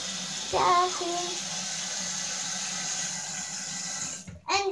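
Water runs from a bathroom tap as a steady, fairly loud rushing stream, with children speaking briefly over it before the flow cuts off near the end.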